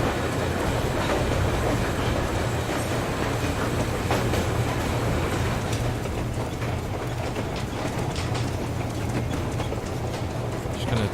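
Steam train riding the rails in Metro Exodus, a constant low rumble with a droning hum underneath and repeated wheel clacks and knocks, steady throughout at moderate loudness.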